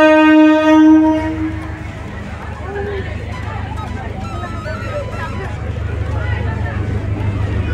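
A train bound for Tinsukia from Ledo railway station sounds a loud horn at the start, then a steady, close rumble of the moving carriages continues throughout.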